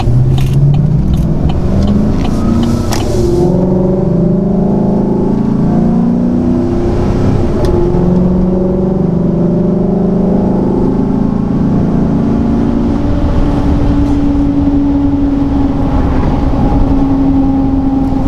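A Chevrolet Silverado pickup engine with a performance modification revs up hard, accelerating from 0 to 60, its loud roar climbing through gear shifts before settling into a steady high drone.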